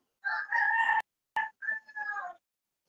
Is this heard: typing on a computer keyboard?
no